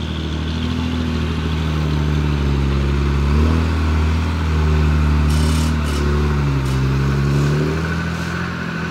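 An Udon Thani dump truck fitted with old bias-ply tyres revs its engine nearby in a loud, steady drone, the pitch swelling and falling across several throttle blips with no talk over it.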